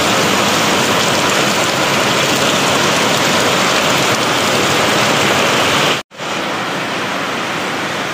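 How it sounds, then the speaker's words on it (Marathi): Heavy monsoon rain pours in a loud, unbroken roar at Panshet with strong gusty wind, cutting out for an instant before resuming just as strongly. "भरपूर पाऊस पडतोय."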